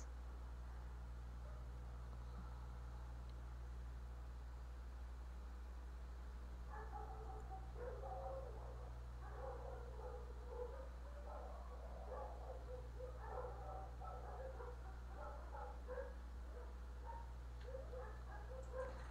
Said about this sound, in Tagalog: naririnig niyo po yung mga aso sa labas.